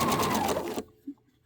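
A sewing machine stitches a quilt seam in a fast, even run of rapid needle strokes, close and fairly loud, then stops abruptly into near silence with a few faint small knocks.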